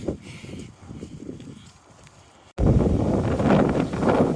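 Wind gusts on a muddy New Year's Day woodland and hill walk in Derbyshire, roaring into the microphone, moderate at first and then suddenly much louder and rougher.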